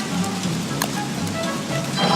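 Rain falls in the video game Don't Starve, an even wash of pattering drops with a few brighter plinks, steady and moderately loud throughout.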